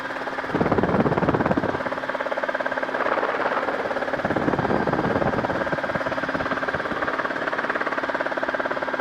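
A Rotorway helicopter flies over a runway, its rotor beating in a fast, steady rhythmic thump with a droning engine underneath, loud and continuous as if heard from on board.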